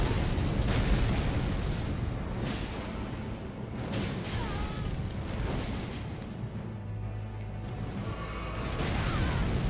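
Messmer's spear launcher attack exploding in Elden Ring: loud, roaring blasts and crackling bursts with whooshing swells, sustained and dense, surging again at the end.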